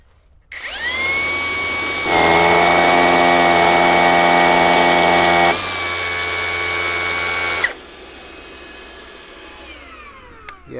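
A DeWalt DCK 20V cordless rotary hammer with dust extractor drills sideways, spinning up with a loud whine, running steadily at high speed, dropping to a lower hum, then shutting off and winding down.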